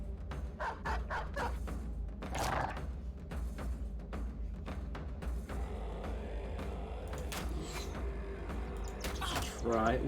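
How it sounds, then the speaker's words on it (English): A summoned dog barks and yips in the Battle Brothers video game, several quick barks early, then clanks and game effects, with a person talking over the game sounds. "Do I want to summon a dog?"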